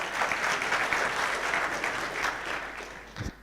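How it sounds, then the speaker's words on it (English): An audience at a tech conference talk applauds, a dense steady wash of clapping from many hands that holds strong and then begins to fade near the end, with no talk over it. "Yeah, you can clap if you want."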